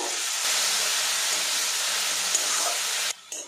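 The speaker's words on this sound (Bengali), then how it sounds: "এর মধ্যে সামান্য জল দিয়ে দেব।" A splash of water poured into a pan of frying potatoes with cumin, coriander and salt sets off a loud, steady steamy hiss that runs for about three seconds before abruptly dropping away.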